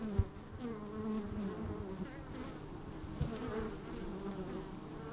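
Honey bees buzz at a beehive in Guadeloupe, a dense, continuous, close humming swarm with occasional louder individual passes and soft bumps, no voices.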